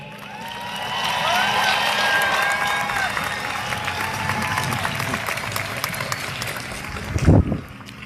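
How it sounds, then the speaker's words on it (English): A graduation ceremony crowd gives a commencement speaker a loud, sustained round of applause for the class of 2020. Dense clapping fills the whole stretch, with a brief louder thump near the end. "Another round of applause for our commencement speaker, Mr. Jordan Jefferson."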